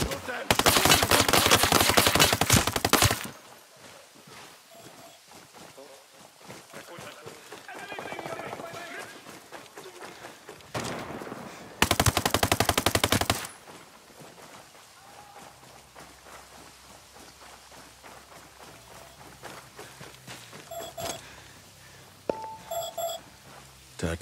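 Bursts of automatic machine-gun fire in the video game Ghost Recon Breakpoint come as two loud, sustained volleys, separated by quieter in-game ambience, beeps and scattered sounds.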